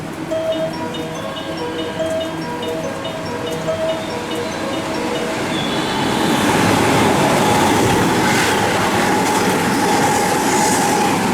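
A JR West Kyoto Line train passes through platform 3 at Suita Station, its rumble building steadily into a loud, continuous roar of wheels and rail noise over the final seconds, with no voices.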